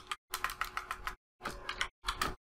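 Bursts of keyboard typing while code is written in Python, quick clustered keystrokes in three runs with short pauses between, close and moderately quiet, no talking.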